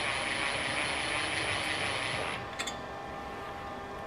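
A hand ratchet rapidly tightens seat bracket bolts while fitting NRG Prisma Ultra bucket seats and sliders in a WRX, giving a steady dense clicking for over two seconds, then stopping with a couple of brief knocks and quiet.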